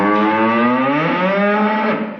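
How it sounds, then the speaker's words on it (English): A single drawn-out cow moo, loud and close, with a strong harmonic low tone that holds steady for about two seconds before fading at the end. "Cows."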